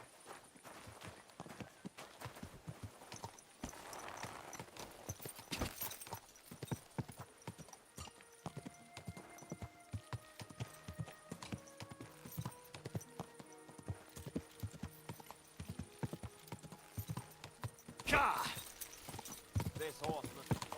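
Horse hooves clip-clop in Kingdom Come Deliverance II as a mount walks steadily, with rhythmic close hoofbeats, a brief snort or whinny near the end and game dialogue or ambience underneath.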